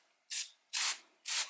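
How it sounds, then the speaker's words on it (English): Non-chlorinated aerosol cleaner is sprayed as a light mist over a car's engine hoses in three short, close hissing bursts separated by brief silences, each lasting a fraction of a second. "You're gonna spray a light mist everywhere on your car, on all your hoses."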